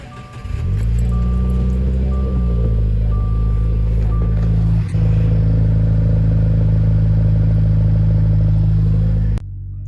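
A 2021 Subaru WRX engine cold start: the engine catches and settles into a loud, steady low rumble at elevated idle, recorded close up.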